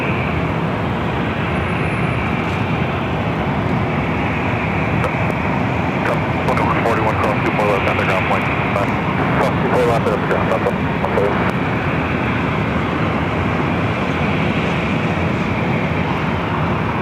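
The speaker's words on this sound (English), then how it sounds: "Have another 777 freighter flying above us, heading to the south side." A Boeing 777 freighter roars low overhead at LAX, its loud, steady jet rumble filling the whole stretch, with a person talking over it.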